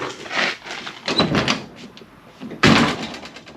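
The door of a 1957 Chevy two-door under rust repair is worked open and shut, several close, loud rattling thuds and clunks with a sharp bang near the end.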